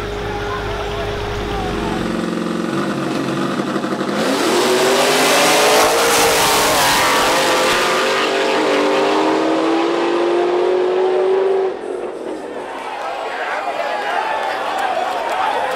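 Race cars with Heads/Cam LT4 engines rev and accelerate loudly in a drag race, with a rising engine tone building through the run and a crowd noise and voices mixed in underneath.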